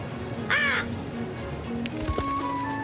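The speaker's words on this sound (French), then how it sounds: "il y a le corbeau" A cartoon crow lets out a single loud, harsh caw near the start, followed by lighter animated sound effects and a sustained tone.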